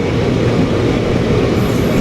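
The Tirupati–Kakinada Town fast passenger train sits alongside on the track, giving a steady, loud, continuous low rumble nearby.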